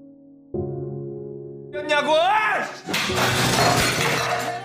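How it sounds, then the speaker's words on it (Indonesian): Glasses and glass bottles smashed in a chicken restaurant, a loud shattering crash with scattering shards that follows a shouting voice. "membanting gelas dan botol kaca di sana"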